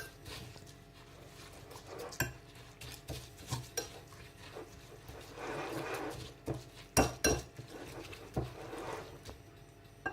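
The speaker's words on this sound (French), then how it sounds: "Et on mélange tout." A spoon or whisk stirs an egg and milk batter in a bowl with soft scraping and sporadic clinks against the dish, quiet and close with no talk.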